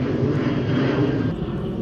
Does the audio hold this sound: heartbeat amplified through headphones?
no